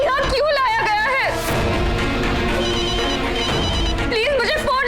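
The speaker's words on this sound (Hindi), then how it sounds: "वो मेरा फोन बज रहा है" A phone ringtone plays loudly, its repeating electronic melody overlapping with a voice speaking urgently in the foreground.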